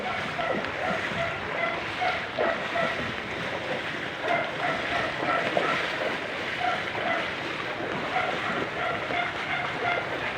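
Floodwater rushes steadily through the San Andres floodway in Cainta, Rizal, during ongoing rain, a continuous broad roar with no break, heard up close.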